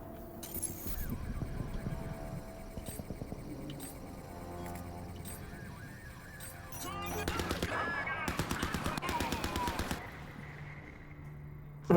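A mounted turret machine gun in Crysis 3 fires sustained automatic bursts in rapid, evenly spaced shots, loud and close, with a heavier stretch of fire late on.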